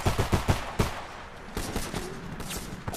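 Pistol fire in a Homefront multiplayer match on PS3: a quick burst of several sharp, loud shots, then a few more spaced shots after a short gap, with battle noise underneath.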